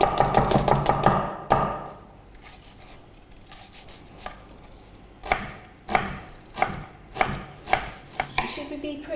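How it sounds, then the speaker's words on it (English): Knife chopping onion and garlic very finely for meatloaf on a cutting board: rapid bursts of sharp taps at the start, a quieter stretch, then a run of distinct, evenly spaced chops near and clear. "I'm going to dice an onion and the garlic"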